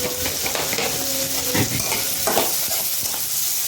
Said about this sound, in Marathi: मिरची छान तळली जाते त्याच्यानंतर लगेच मी कढीपत्ता टाकत आहे